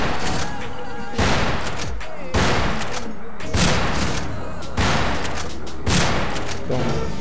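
Gunfire from the video game Fistful of Frags: loud bursts of shots and booming blasts crack out in repeated rapid volleys at roughly one-second intervals, with game ambience between them.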